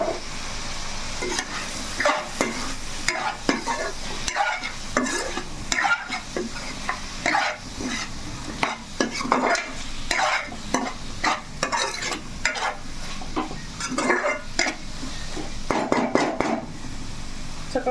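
Chili powder for a meat pickle fries in a pan while a spoon stirs and scrapes it repeatedly, with clinks of metal on the pan over a continuous close sizzle and no talking.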